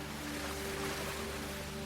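Ocean waves roll in on a Hawaiian beach as a soft, steady wash of surf, faint and continuous, with a low, even hum underneath.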